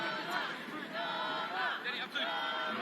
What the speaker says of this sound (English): The crowd starting to come alive here at the Gold Mine